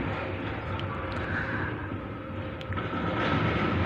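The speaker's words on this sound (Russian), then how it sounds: "Видите, сейчас трамвай за трамваем." Trams pass one after another through a city on a cool morning. They make a continuous rumbling roar with occasional rail clatter and squeal, fairly close and steady throughout.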